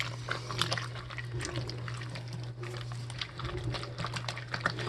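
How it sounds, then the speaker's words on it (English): Wet, sloshing stirring of dressing through sliced cucumber salad, with soft irregular squelches and spoon scrapes over a steady low electrical hum. "you're just going to add all your dressing all at once. No worries here of anything getting messed up. And you just give it a good stir."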